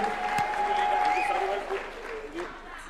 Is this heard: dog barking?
no